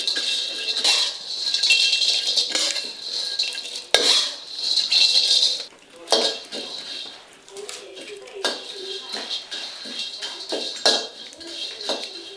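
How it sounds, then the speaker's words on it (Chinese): Pumpkin seeds are stir-fried in a pan over low heat, with a steady scraping and rattling of the spatula and seeds that pauses briefly now and then, close up and fairly loud. "要不停的翻炒，不然糊掉了。"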